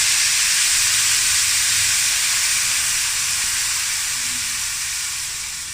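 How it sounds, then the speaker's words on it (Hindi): Steady loud hiss and sizzle of an onion, ginger and green chili paste frying in a pan, continuous and close, fading slightly toward the end with no talk. "प्याज डालने के बाद मैंने ना 5 मिनट तक फ्राई किया है"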